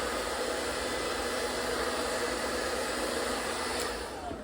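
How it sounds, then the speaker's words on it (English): A hair blow dryer running on medium setting blows a steady, loud, broadband whoosh close by, unchanging throughout with no talk. "you're going to take your blow dryer and turn it on medium and blow dry the spots that you put product on"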